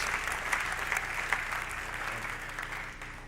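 Audience applause at a spring sports awards ceremony honoring scholar athletes, a steady, even round of clapping from a crowd that runs the whole time.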